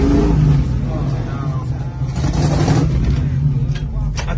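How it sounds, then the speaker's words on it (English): Ford Mustang Mach 1 engine revving and roaring steadily while driving through a hayfield, loud and close throughout, with voices talking over it. "How many of y'all took a Mach 1 through a hayfield?"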